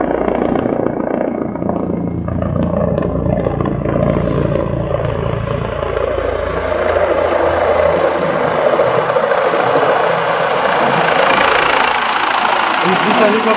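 Ambulance helicopter landing in Berlin, its rotor and engine roaring steadily and loudly up close for the whole stretch, with voices talking over the din.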